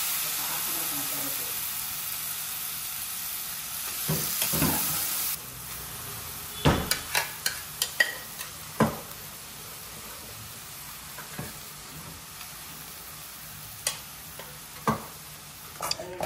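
Boti, goat tripe, being stirred as it fries in a pan, with a soft sizzle underneath and a run of sharp, irregular scraping and tapping clicks from the utensil against the pan.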